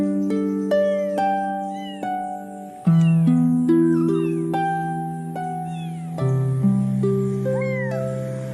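Several kittens meow in rising and falling cries over a steady, soft musical backdrop, their calls repeating through the stretch at close range and moderate loudness.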